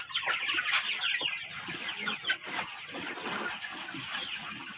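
A flock of chickens clucking and chattering steadily close by while being fed, mixed with scattered bird chirps and light rustling.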